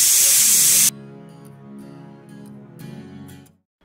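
A pressure cooker boiling lentils for tarka dal lets out a loud, close burst of steam hiss that cuts off abruptly after about a second, followed by a quieter tonal hum.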